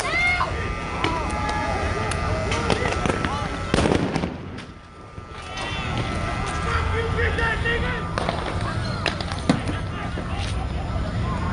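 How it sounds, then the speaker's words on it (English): Police flashbang grenades burst sharply at a street protest, loud percussive cracks standing out over crowd noise, shouting and a voice talking nearby. "Flashbangs."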